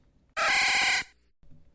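A short electronic cry of the Pokemon Flaaffy from a video game, a single bright buzzing tone lasting under a second, loud and close, followed by quiet.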